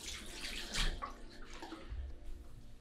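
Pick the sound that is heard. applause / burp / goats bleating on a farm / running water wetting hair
running water wetting hair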